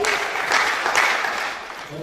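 An audience at a Form One parents' induction at a girls' high school claps to welcome a speaker, a dense, close burst of steady applause that fades slightly toward the end, with voices mixed in.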